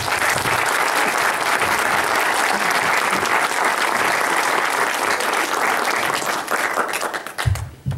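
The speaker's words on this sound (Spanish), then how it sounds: "¿Qué les parece si lo recibimos con un fuerte aplauso?" A crowd at a talk welcomes a speaker with loud, sustained applause, a dense wash of clapping that holds strongly for about seven seconds before tapering off, followed by a brief low sound at the end.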